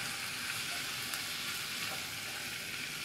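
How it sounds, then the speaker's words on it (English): Onions and tomatoes sizzle in a pan while being stirred, a steady soft hiss with a few faint scrapes, no speech. "I'm going to dip in the tomatoes right now. Just give it a quick stir."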